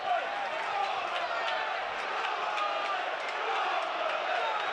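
A Premier League football crowd at a Burnley v Newcastle match roars steadily throughout, a dense, continuous swell of stadium noise urging the team on, with no single voice standing out.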